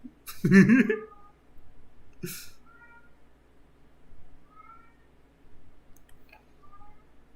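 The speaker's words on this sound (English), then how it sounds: "That cat is very loud." A loud cat meows close by, one strong cry at the start and another short one after, then fainter chirps and small clicks through an otherwise quiet room.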